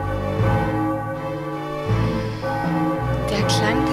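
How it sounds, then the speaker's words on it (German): A bell rings in the video game Final Fantasy 9, with sustained tolling tones layered over game music. "Der Klang dieser Glocke."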